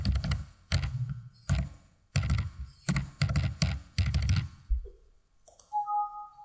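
Keys tapped in quick bursts on a computer keyboard while entering a company name into an access-control program, clusters of close, clicky strokes separated by short pauses, with a brief electronic tone at the end.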